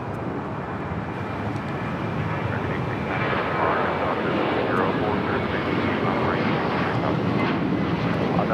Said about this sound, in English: Korean Air should be making that left-hand turn onto Lima, then an immediate right-hand turn and heading to one of the gates